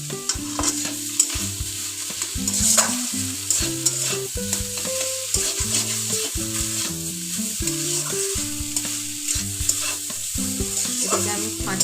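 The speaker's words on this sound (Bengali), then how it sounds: "এটাকে আমি 5 মিনিট মতো খুব ভালোভাবে কষাবো" Cauliflower kachori filling, seasoned with salt and sugar, sautés in a pan, giving a steady close sizzle with repeated spatula scrapes and stirring over a melodic tune playing underneath.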